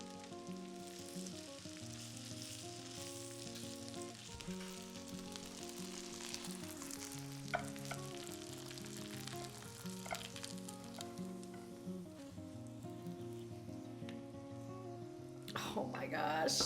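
Homemade gnocchi browning in a pan give off a steady, close sizzle with faint crackle. Low background music plays underneath, and a sharp burst of frying noise comes in near the end.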